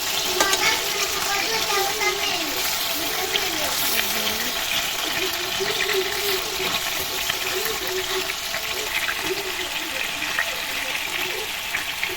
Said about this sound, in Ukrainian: Маємо макарончики і смажиться філе стегна.